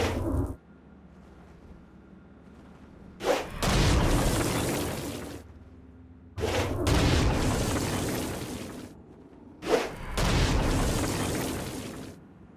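Three heavy Charge Halo blast explosions go off in Saints Row: Gat Out of Hell. Each opens with a sharp crack, then a loud, roaring boom that sustains for about two seconds, separated by quieter low rumbling gaps.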